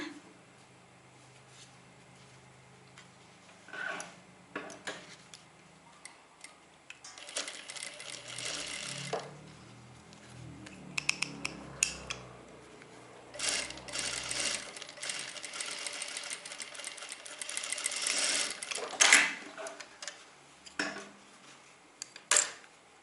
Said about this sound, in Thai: เรานะคะก็ เย็บเลยค่ะ เย็บจากด้านบนก่อนนะ